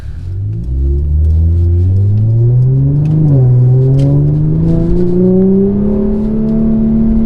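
2016 Mercedes-Benz C450 AMG engine accelerating hard from inside the car, a loud rising drone that climbs steadily in pitch through a held gear with a brief dip midway.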